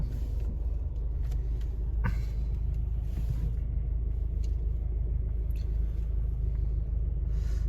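Steady low rumble of city traffic in Wrocław, Poland, with buses idling and passing, a few brief hisses and clanks standing out over the drone.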